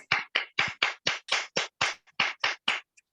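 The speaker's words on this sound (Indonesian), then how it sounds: "Tepuk tangan untuk semuanya." Hands clap in a quick, even rhythm of about eleven sharp claps, close and clear with nothing else around them.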